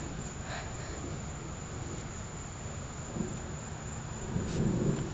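Steady rain falls during a lightning storm, with a low rumble of thunder swelling faintly near the end beneath the constant hiss.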